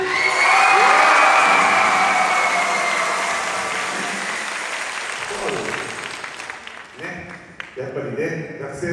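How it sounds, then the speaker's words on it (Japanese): An audience at a joint school band pops festival concert breaks into loud sustained applause with some cheering, fading after a few seconds into scattered clapping and talk. "大きな拍手"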